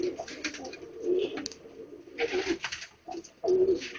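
Pigeons in a loft, including a white bird crossed from two fancy breeds, give repeated low throaty coos in short bursts, close and clear against a quiet background.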